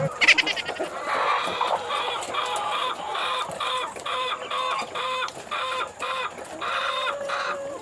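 A hen on a farm that is close to laying an egg clucks repeatedly in steady, insistent bursts, loud and near, with other farm animals faintly in the background and no talking.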